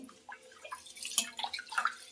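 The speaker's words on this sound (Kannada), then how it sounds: "ಅಕ್ಕಿಯನ್ನು ಚೆನ್ನಾಗಿ ತೊಳ್ಕೊಳ್ಬೇಕು." Rice is rinsed in water in a vessel, with soft, close sloshing and small splashes and drips coming in quick, irregular bursts at low volume.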